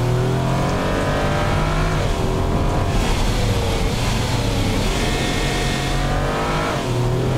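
Race car engine in the racing game Automation, a three-ton minivan build, revving hard and accelerating steadily along a track, with rising and falling harmonic engine whine and faint tire squeal, loud and continuous with no talk.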